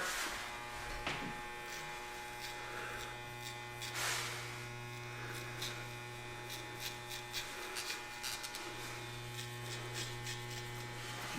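Electric hair clippers cut hair in a home self-haircut, a steady low motor hum running throughout with faint rubbing and brushing sounds over it.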